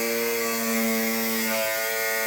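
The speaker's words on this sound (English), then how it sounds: "So I'm just gonna do that real quick with the cutoff wheel here." Cutoff wheel slicing through a rusty quarter panel on a Dentside Ford truck bed, a loud, close, continuous high-pitched metallic whine that shifts slightly in pitch as the cut finishes, with no talking.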